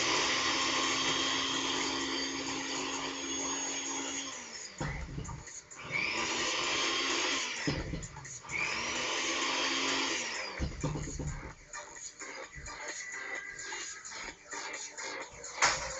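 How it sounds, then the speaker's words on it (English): A blender grinds oats loudly and steadily, pausing briefly a few times before whirring back up, with rattling and clatter as it runs. "you don't have to listen to the blender going"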